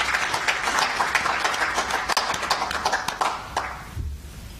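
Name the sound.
audience applauding at an economic summit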